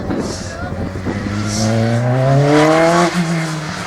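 A Lotus Elise 111S at a slalom, its engine revving up sharply through rising pitch, loud and near, then easing off, with faint tire noise.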